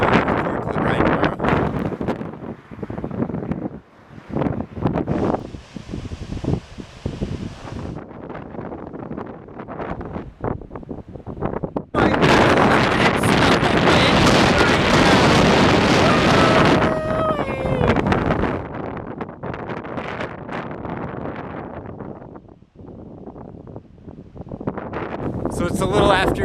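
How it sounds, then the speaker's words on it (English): Strong wind gusts on the coast of Portugal batter the microphone with a loud, rough roar that surges and drops in uneven waves, peaking in a sustained blast midway through. "It's super windy."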